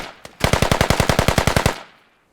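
A rapid automatic burst of about fourteen evenly spaced, loud gunshots in a multiplayer military shooter match. A single shot comes first, and the burst trails off into a brief echo.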